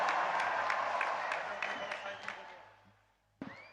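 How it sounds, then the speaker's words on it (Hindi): Applause from a large audience at an outdoor event in Guwahati, welcoming a Bagurumba folk dance performance. Dense clapping swells at first, then thins and fades toward the end. "आइए तालियों के साथ इस भव्य प्रस्तुति का स्वागत करें"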